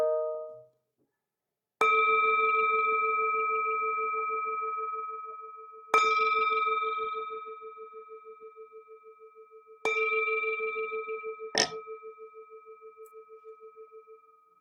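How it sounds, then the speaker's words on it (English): A meditation bell is struck three times at a slow, even pace, each clear ringing tone sustaining and slowly fading, followed by a short sharp strike at the end, in an otherwise silent room. "The sound of this beautiful bell returns us to our true home."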